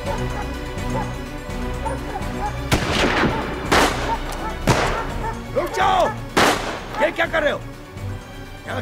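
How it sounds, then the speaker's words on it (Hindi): Several sharp gunshots crack in bursts during a tense scene in a Russian detective drama, with a dog barking in between and voices nearby, the shots loud and close. "इस तरह गोलियां चला रहे हो?"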